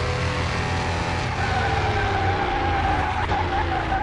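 A Porsche brakes hard in Car Mechanic Simulator 2021, its tires skidding and squealing in one long, loud screech over a steady engine roar.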